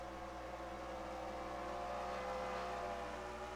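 An idling race car engine in a racing game at Daytona, with a low, even rumble, continuous and unchanging throughout.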